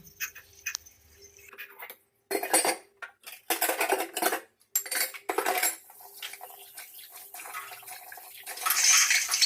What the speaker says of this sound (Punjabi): ਹੌਲੀ ਹੌਲੀ ਸਾਰੇ ਭਾਂਡੇ ਮਾਂਜ ਲਾਂਗੇ ਆਪਾਂ